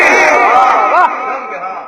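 A seated audience at a devotional naat gathering roars back a loud unison response to a Nara-e-Takbeer call, one strong collective shout that quickly fades into lingering voices.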